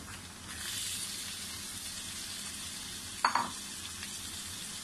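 Mutton frying with onions in a karahi, making a steady close sizzle and hiss with a sharp clatter of stirring near the end, no voices.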